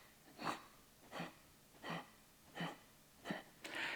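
Someone breathes forcefully in and out through the nose during a core exercise: five even, rhythmic huffs about 0.7 seconds apart, close but quiet, then a longer exhale.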